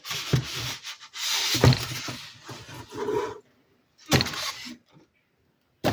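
Cardboard and plastic packaging around a scrapbooking cutting machine is pulled apart and rubbed in short, close bursts of rustling and scraping, broken by brief silences and a light knock.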